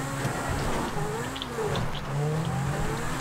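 A car engine revs in a street race in the video game GTA V, a continuous moderately loud engine drone with shifting pitch and faint tire noise, no talk.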